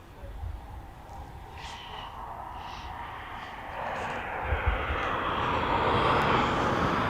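Aircraft engine or APU at East Midlands Airport, a steady distant jet whine and rumble that grows louder toward the end, with a person talking over it.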